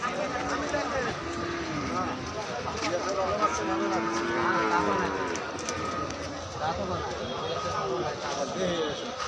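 Cattle moo at a crowded cattle market, several drawn-out lowing calls rising from a dense din of chatter, with people talking throughout.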